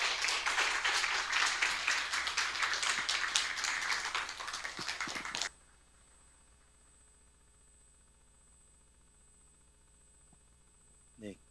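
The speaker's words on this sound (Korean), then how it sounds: "우리 박수로 환영하도록 하겠습니다" A church congregation applauds a speaker steadily for about five seconds during a Sunday service, dense and fairly loud, then stops abruptly, leaving near silence with a faint tap at the end.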